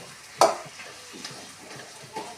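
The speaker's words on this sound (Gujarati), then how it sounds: "ફટાફટ હલાવી નાખીએ" Carrot pudding (gajar halwa) with ghee being stirred quickly in a pan, giving one sharp scrape near the start followed by faint scraping and soft sizzling, with no talk.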